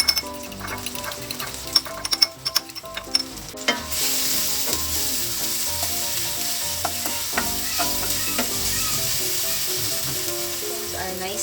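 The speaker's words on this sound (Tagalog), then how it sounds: "nag-isa lang naman tayo ng bawang, sibuyas, kamatis at konting luya" Garlic, onion, tomato and ginger sauté in oil with a sizzle that swells loudly partway through. Utensil clinks and stirring scrapes sound close by.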